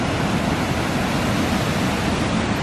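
A tiered waterfall in Southern Oregon rushes with a continuous broadband roar that is dense, loud and unbroken from start to finish, with no talk over it.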